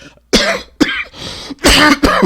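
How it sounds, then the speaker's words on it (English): A close, loud fit of harsh coughs and throat clearing, several bursts in a row with brief gasping pauses between them. "Coughing fit happening."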